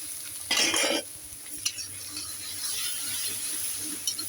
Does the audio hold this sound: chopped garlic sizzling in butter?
yes